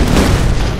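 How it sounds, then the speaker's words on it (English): A black hole skill shot exploding in the artillery game ShellShock Live: one continuous, loud, rumbling boom that holds steady through the whole moment. "Black hole skill shot."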